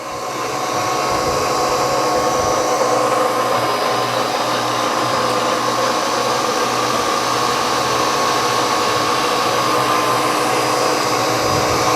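Steady, loud machine whine with a broadband hiss runs unbroken for the whole stretch, like a drill boring holes in the ends of small rocker arms for a five-cylinder radial engine, with no voices over it.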